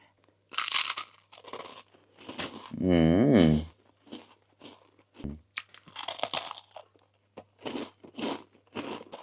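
Crispy Thai rice crackers (khao taen), bought at 20 baht a bag, crunched in a series of sharp, close bites and chews spread through the clip, with a man's speech in between and a brief hummed or sung passage.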